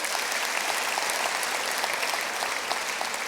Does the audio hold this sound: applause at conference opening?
yes